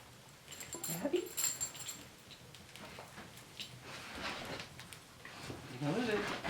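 A dog whimpers in soft, high whines at an off-grid cabin, with a few faint yips rising and falling over several seconds while a person talks gently nearby.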